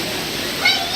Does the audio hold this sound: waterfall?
yes